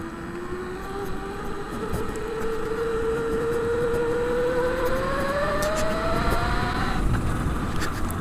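Brammo Empulse R electric motorcycle ridden in sixth gear, its motor whine rising steadily in pitch over wind and road rumble, with a brief dip near the end.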